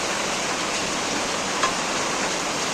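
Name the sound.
heavy rain falling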